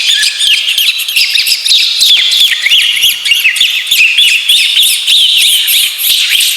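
A human voice whistles a rapid, chirping run of trills and warbles in imitation of a bird call, continuous and fairly loud for several seconds, performed alone for children at an inauguration event.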